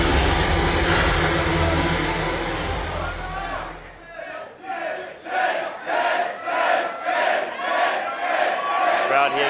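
A wrestling crowd at a mixed tag grudge match roars loudly, then breaks into rhythmic, pulsing chants of support that rise and fall in steady waves.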